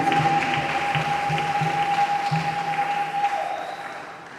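A congregation at a thanksgiving mass claps in sustained, dense applause that fills the whole stretch and fades slightly at the end.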